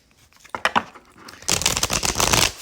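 A tarot card deck is shuffled at close range: scattered soft flicks and taps at first, then a denser, louder run of riffling card slaps, with no voices.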